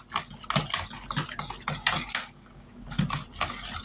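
A utensil clinks and scrapes rhythmically against a bowl while pie filling is stirred, a steady run of close metallic taps with a short pause midway.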